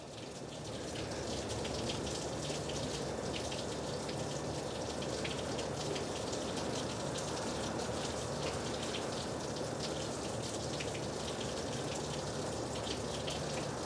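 Water gushing and splashing steadily through a 7.3 Powerstroke air-to-air intercooler during flushing, a continuous close hiss of pouring water like heavy rain.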